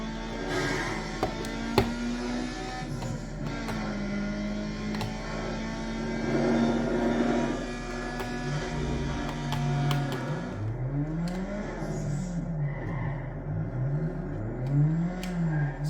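Racing video game car engine played on a PlayStation 2 with a third-party wired controller, a steady droning hum with rising and falling revs as the car speeds up and turns, fairly loud and continuous with no talk.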